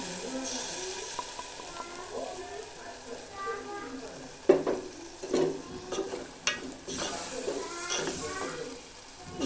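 Ground masala for potato kurma frying in a pan, with a soft sizzle and the scrape of a spoon stirring at irregular intervals, fairly quiet.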